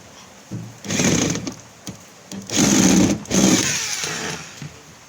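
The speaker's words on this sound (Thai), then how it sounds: "ประมาณนี้นะครับเราก็ยิงน็อตให้รอบนะครับ" Power driver running screws through a zinc patch plate on the back of a washing machine, several short whirring bursts with brief pauses and no talking.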